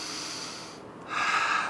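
Someone resting in a pec-opening stretch during a morning mobility routine takes a soft breath, then a louder, sharper exhale or snort-like breath near the end, close and alone without talk.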